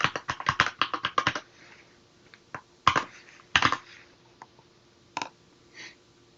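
A password is typed on a computer keyboard: a quick burst of close, crisp key clicks, then a pause and a few scattered single keystrokes, with no voices.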